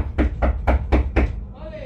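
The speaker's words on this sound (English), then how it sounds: "I would have knocked my door" Five sharp knocks on a door land in a quick, even rhythm, loud and close, followed by a brief faint tone as the knocking stops.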